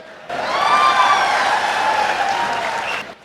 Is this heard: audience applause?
yes